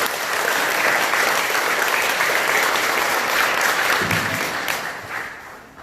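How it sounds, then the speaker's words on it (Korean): A crowd applauds newlyweds at a Buddhist temple Dharma gathering held in the lobby. Steady, dense clapping continues for several seconds and fades near the end, with no talk over it. "한 쌍의 신혼부부를 위해서 축하의 박수 부탁드리겠습니다"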